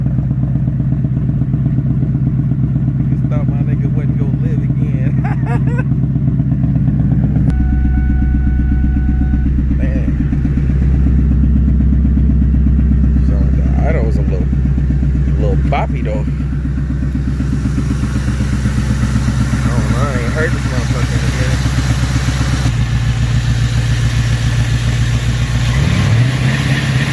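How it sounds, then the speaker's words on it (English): A Ford engine idles choppily with a misfire from the wrong coil pack fitted, a steady loud low rumble with uneven clatter running throughout, close by. "I noticed why the idle was a little choppy."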